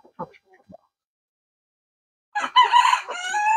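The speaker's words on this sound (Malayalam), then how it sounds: "ഇത്രയും കോഴികളാണ് ഇപ്പൊ നമുക്ക് ഫാമിലുള്ളത്" A Fayoumi chicken crows on a hen farm, one loud, close cock-a-doodle-doo that rings out after a second of near silence broken by a few soft, short clucks.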